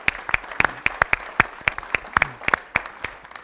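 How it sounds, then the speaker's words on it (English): Applause from an audience at a community health literacy forum, made up of a modest number of sharp, distinct claps, close and fairly loud, sounding like a small group clapping for a few seconds. "let's give everyone a big round of applause."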